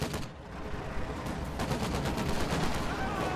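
Continuous machine gun fire in a Company of Heroes 2 battle, dense overlapping bursts of rapid shots holding steady and loud throughout, with game battle noise around it.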